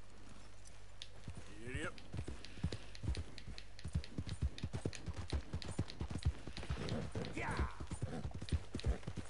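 Horse hooves clip-clop steadily in Red Dead Redemption 2, an even run of distinct, fairly close hoofbeats with game sounds around them, and a person speaks briefly over them.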